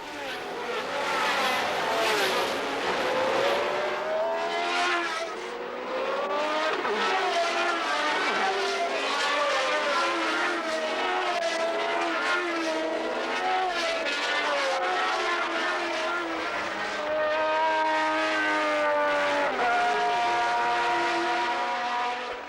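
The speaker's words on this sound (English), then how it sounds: "He passed Jabouille and then took his car round the outside of Arnoux on the famous Tarzan corner" 1980 Formula One race cars roar past in a continuous loud wail of high-revving engines, pitch sweeping up and down as they accelerate and brake.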